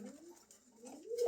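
Pigeons offered for sale coo softly, giving a couple of low, gliding, throaty calls close to the listener in an otherwise quiet space.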